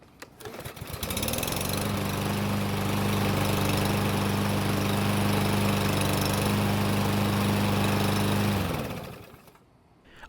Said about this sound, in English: this time it only took 5 pulls to start it